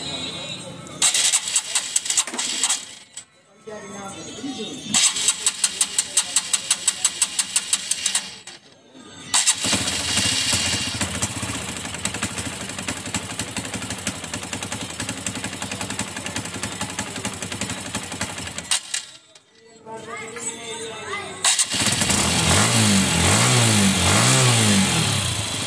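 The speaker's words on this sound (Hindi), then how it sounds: "ये देखिए दोस्तों, मोटरसाइकिल में जो मिस्टेक थी वो अब ठीक हो गई है, गाड़ी बढ़िया से एक्सीलेटर लेने लगी है।" A motorcycle repaired for a missing problem starts up and revs repeatedly, loud and close, with bursts of throttle broken by short pauses and a voice speaking during the running.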